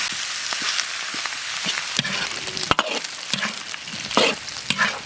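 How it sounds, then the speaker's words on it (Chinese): Fatty pork fries in a wok to render out the fat, giving a continuous close sizzle broken by scraping stirs of the spatula and a few sharper pops and clacks against the pan. "猪肉有点肥，上锅先把油炒出来。"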